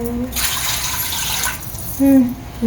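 Water poured into a pot of basmati rice for a vegetable biryani, a brief close splashing rush in the first half, with a voice talking over and after it.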